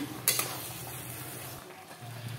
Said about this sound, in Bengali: এইভাবে নেড়ে নেড়ে এটাকে রান্না করে নিচ্ছি